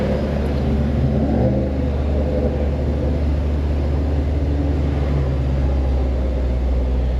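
A Honda Civic engine holds a steady rev near 2,000 RPM, a continuous low rumbling drone with a faint intermittent noise beneath it, close and fairly loud, with no talking.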